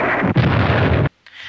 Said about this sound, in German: Ein guter Schuss, aber die Alliierten schießen zurück.